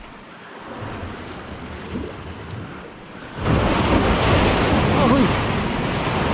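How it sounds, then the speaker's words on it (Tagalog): Ocean waves crash against a high rocky shore during rock fishing, a steady windy roar that surges much louder halfway through and then stays heavy and close, with a brief shout over it. "Grabe yung alon."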